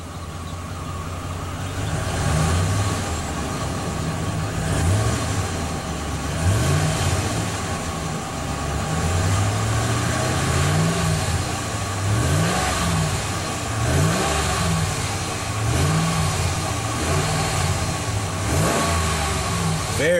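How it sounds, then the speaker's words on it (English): A 2013 Ram 1500 with a 5.7 L Hemi V8 revs repeatedly, deep rising-and-falling blips over a steady idle rumble, loud and close throughout. "Let's go ahead and rev up the RAM 1500. Let's go ahead and see how that Hemi V8 sounds."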